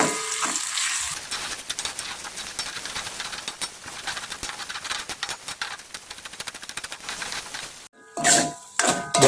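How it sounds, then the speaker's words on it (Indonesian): Spice paste with lime leaves, bay leaves and knotted turmeric leaves sautéing in a pan, giving a steady, close, loud sizzle with scraping stirs that stops briefly near the end before resuming in bursts. "Nah, ini kita tumis hingga bahan bumbunya matang ya,"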